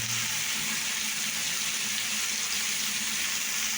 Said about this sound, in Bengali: হচ্ছে আলুটা কত সুন্দর একটু ভাজা হচ্ছে, আরও ভাজা হবে